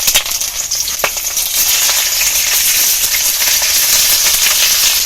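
Jackfruit patties wrapped in leaves go into hot mustard oil in a heated kadai, a loud close sizzle with a few sharp crackles early on that settles into a steady frying hiss.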